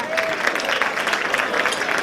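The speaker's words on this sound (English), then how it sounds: "Give a clap for him real quick" An audience claps at an awards and dinner gala, brisk, fairly close clapping that runs steadily for a couple of seconds with faint background murmur.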